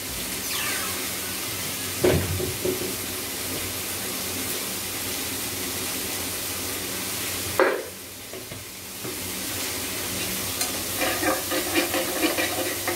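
Onion and tomato already fried for dal get stirred with turmeric in a pan, a soft continuous sizzle broken by a couple of louder scraping strokes, with no voices.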